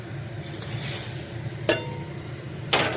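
Lentils dropped into hot oil seasoned with asafoetida in a home kitchen, a bright steady sizzle that swells as they hit the pan, with two sharp spatters or stirring clacks near the end.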